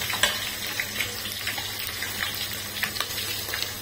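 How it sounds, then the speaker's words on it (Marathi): Green chili and bay leaf fry in hot oil as the base for egg biryani, a steady close sizzle with occasional crackles and light stirring scrapes throughout. "कांदा, छान असं परतून घ्यायचं."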